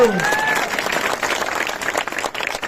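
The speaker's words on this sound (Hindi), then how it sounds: "अरे जरा तालियां तो बजाओ" Crowd clapping at a political rally in Solapur, a scattered, uneven burst of applause from many people, with a voice briefly audible at the start over the clapping.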